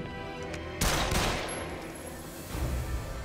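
Gunshots in The Evil Within 2, a survival horror game: a loud blast with a lingering tail, then a second softer burst about two seconds later over a steady ambient backdrop.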